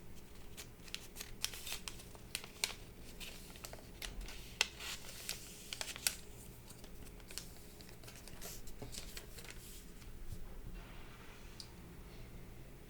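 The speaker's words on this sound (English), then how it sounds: "So we're going to fold in half just like a book." Origami paper is folded in half like a book, soft crisp creases and papery ticks scattered over a quiet background, close and faint.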